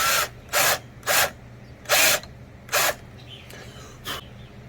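A power drill with a 1/2-inch bit bores into a wooden shelf in five loud, close bursts of about half a second each, evenly spaced, with short quiet gaps and a faint click between them.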